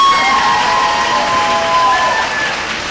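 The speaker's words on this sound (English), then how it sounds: "Yes, feel free to clap." College commencement crowd applauding and cheering: a loud, sustained wash of clapping with scattered whoops and shouts from a large audience, holding steady for the whole stretch.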